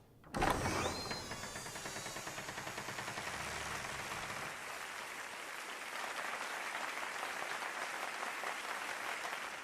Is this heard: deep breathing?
no